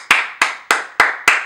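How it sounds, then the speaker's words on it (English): Five slow, sharp hand claps from a single person, evenly spaced and close to the microphone, each crisp clap followed by a short room decay, with no talking. "round of applause"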